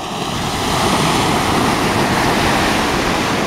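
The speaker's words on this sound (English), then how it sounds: "there's some pretty good surf coming in here." Ocean surf on a Maui beach near a retaining wall rushes in a loud, continuous wash of breaking waves, steady and close with wind noise and no voices.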